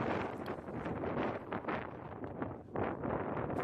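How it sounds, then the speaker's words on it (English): Gusting wind blowing across the microphone at an outdoor high school baseball game, rough rumbling bursts rising and falling in waves, fairly loud, with no talk. "It's still gusting in the direction of the construction zone."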